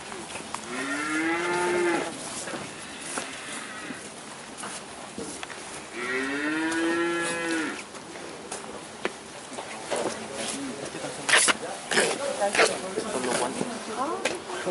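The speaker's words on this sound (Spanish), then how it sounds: "Así que ahora nosotros recién vamos a ver vacas." Cattle moo loudly and close at a farm, two long bellows a few seconds apart, followed by fainter shuffling and knocks while people talk in Spanish.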